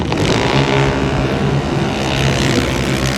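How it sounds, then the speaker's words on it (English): A junior dragster engine roars loud and steady at a drag strip, close by with a continuous buzzing drone that holds throughout. "Junior dragsters were out today."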